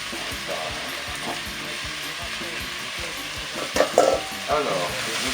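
Rice frying in a pan is stirred with a utensil, producing a steady sizzle with rhythmic scraping and a few louder clattering strokes.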